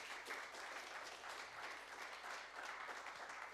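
A church congregation applauds together, a continuous dense wash of clapping heard from a distance at low volume, with no voices standing out.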